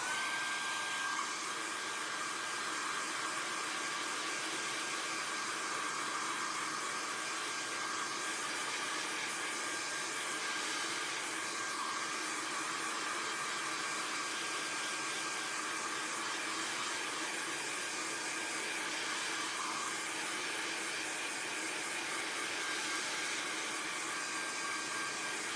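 Heat tool or dryer blowing to dry a Distress Oxide ink background, a steady loud airy whoosh with a constant motor whine that runs uninterrupted throughout, with no talking.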